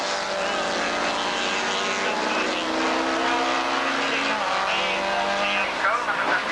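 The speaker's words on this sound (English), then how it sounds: "29 going through there, that's Peter Gorry in the Vauxhall Chevette" A Vauxhall Chevette race car, driven by Peter Gorry, passes on a motorsport circuit, its engine note loud and sustained with a rising then falling pitch as it goes by. A commentator talks over it throughout.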